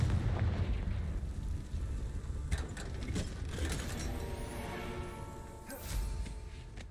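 Blasts of the Confringo explosion spell in Hogwarts Legacy, a few rumbling, crackling bursts over a dense low wash of background noise, moderately loud with no voice.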